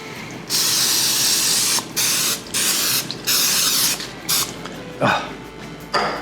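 Cooking spray from an aerosol can coats a casserole dish, loud close hissing in several long bursts with brief gaps, ending in shorter spurts and a faint clink.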